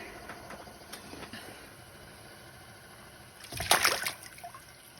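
A 22-inch walleye released into water through an ice hole makes a brief, close splash after quiet background, followed by a short trickling fade.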